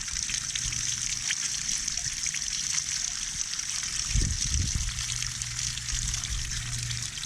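Water flushes steadily out of an outboard engine with a constant hissing trickle and spatter, a brief gurgling burst partway through, faint and a little distant.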